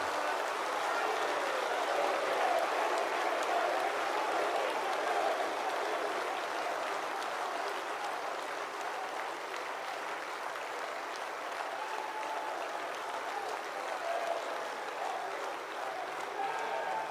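A large hall audience at a national cooperative conference in New Delhi applauds in honor of the prime minister, a long, steady, even wash of many hands clapping that holds at the same level throughout.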